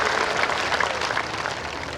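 A church festival audience claps hands in a steady, dense wash of applause that holds for the whole stretch. No voices stand out.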